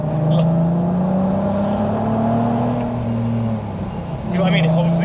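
An Audi TT 3.2 with a DSG gearbox pulls away hard from a standstill, its engine note climbing steadily and holding the gear before a brief dip and a fresh rise, with voices speaking over it.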